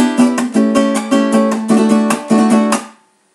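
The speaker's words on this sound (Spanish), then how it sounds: "El floreo suena así." Venezuelan cuatro strummed in the fourth floreo pattern, a crisp rhythmic run of bright chord strokes repeated twice in a tight pulse, then ringing out to silence.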